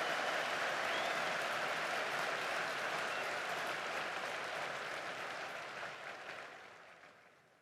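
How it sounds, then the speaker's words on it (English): A large commencement crowd at the U.S. Military Academy at West Point applauds the class of 1974, a broad wash of clapping that holds steady and then gradually fades out. "how about a round of applause for the class of 1974"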